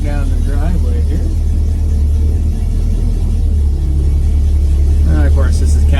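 A 1968 Pontiac Firebird, freshly reassembled after restoration, idles with a deep loud rumble while backing down a driveway, the engine steady and close under someone talking.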